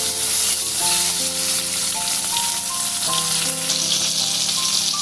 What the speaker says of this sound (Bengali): টমেটোটা ভেজে দিচ্ছি।